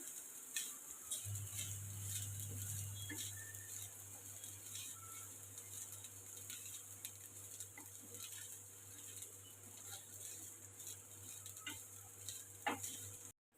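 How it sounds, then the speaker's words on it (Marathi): Grated coconut and onion roast in a pan for a stuffed bitter gourd masala, giving a faint, steady sizzle with light scraping stir sounds and a low constant hum underneath. "थोडं खोबरं जास्त आणि ते सुद्धा आपण छान असं खरपूस असं कांद्याबरोबर भाजून घ्यायचं आहे"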